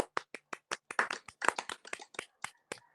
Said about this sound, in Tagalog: Pumalakpak tayo, guys.